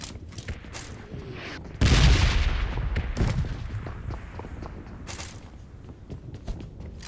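Gunfire rings out in a battle royale shooter game: a sharp, loud burst of shots followed by scattered further reports and a fading rumble, with faint footsteps around.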